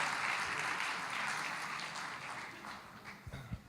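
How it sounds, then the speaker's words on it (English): Audience applause at a neuroscience conference session as the moderator runs onto the stage: steady, dense clapping from a sizable crowd that slowly tapers off, with a few louder thumps near the end. "Give him a round of applause."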